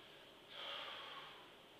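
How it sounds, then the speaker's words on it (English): One slow, breathy chest breath drawn in through the mouth, soft and close, swelling gradually and then fading, with no talking. "this is me breathing from my chest."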